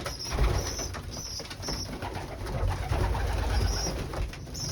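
Racing pigeons cooing inside a loft, soft overlapping throaty coos close by, repeating through a murmur of wing shuffles and movement.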